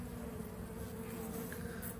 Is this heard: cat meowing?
no